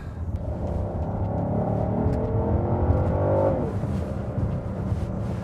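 A 2024 Genesis GV70 3.5T Sport AWD accelerating hard in Sport Plus mode on twisty roads, its engine note rising steadily and loud from inside the cabin before easing off, with no talking.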